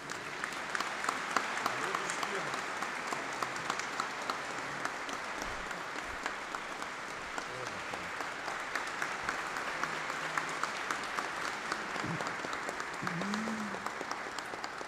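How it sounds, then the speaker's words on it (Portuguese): Steady applause from an audience at a formal commemorative session honoring Brazilian World War II veterans, sustained clapping throughout with faint voices beneath. "Breno e Cecília, e uma salva de palmas para esses dois."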